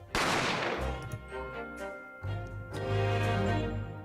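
A single loud gunshot from The Great Ace Attorney, a sharp close crack followed by a long ringing decay, with a second swell of reverberant resonance building afterward.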